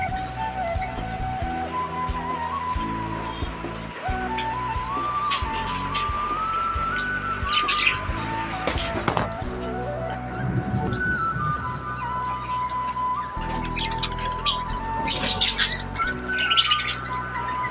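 Java sparrows chirp and squawk around a nest holding newly hatched chicks, with bursts of bright calls and whistly notes over a steady low background hum, busier toward the end.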